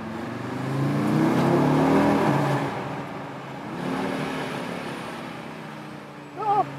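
Audi RS Q3 Sportback 2021, a 400 hp compact SUV, accelerating through a tunnel with a rising engine note, loud and reverberant, then easing off before a short burst at the end.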